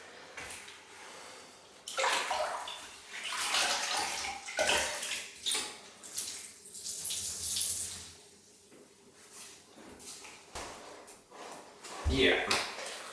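Water splashes and runs into a bucket of thick drywall mud in uneven gushes, close and fairly loud, with people talking in between and a clunk near the end.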